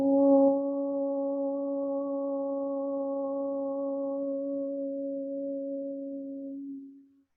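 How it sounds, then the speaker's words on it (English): A single sustained Om is chanted during a yoga class: a steady, low, resonant vocal hum held for about seven seconds before fading out. "So open with the sound of Om,"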